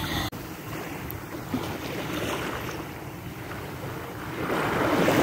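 Steady wash of sea waves and surf with gusting wind buffeting the microphone, growing slightly louder toward the end; no voices.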